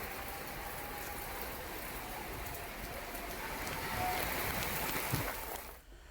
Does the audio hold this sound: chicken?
no